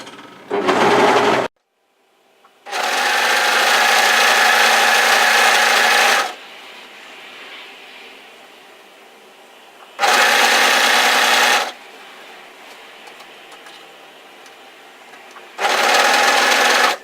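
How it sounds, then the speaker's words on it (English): An overlocker serging over the corner of a hoodie's split hem, running in three loud, steady bursts of about two to four seconds each, with quiet pauses between them. "I'd like you to just overlock it down 2 inches 5 centimeters"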